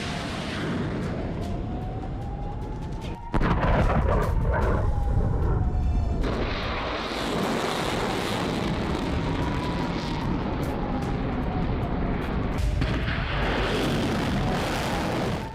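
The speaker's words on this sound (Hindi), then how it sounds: "धमाके, मिसाइल अटैक, ड्रोन से हमले" Missile attacks and drone strikes: a dense, roaring rumble with sudden heavy booms and a jet-like whine sweeping overhead, sustained and loud throughout.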